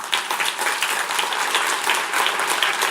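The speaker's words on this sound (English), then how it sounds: "Big round of applause for Attila." An audience at a Cannes talk breaks into loud, sustained applause, dense clapping filling the space evenly from start to finish with no voices over it.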